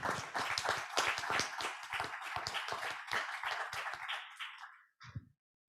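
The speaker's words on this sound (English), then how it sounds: "I would like to ask for a round of applause to all our speakers today" An audience at an open innovation symposium panel applauds the speakers, a burst of many hands clapping together, loud at first, then thinning and fading, with a few last claps at the end.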